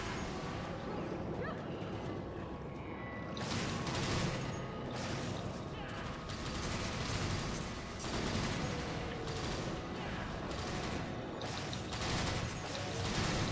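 Bowgun shots from a gunner in Monster Hunter 3 Ultimate, repeated loud bursts of firing in a busy online hunt, with someone talking over the action.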